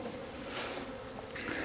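Bees buzz around a cooler swarm trap outdoors in wind, a low steady hum with a few louder passes as individual insects fly close.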